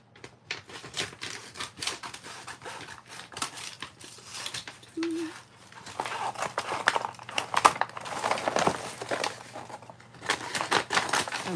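Scissors snip through a paper image cut from a stencil print for an art journal, a steady run of close, crisp cuts and rustles, with occasional faint talk.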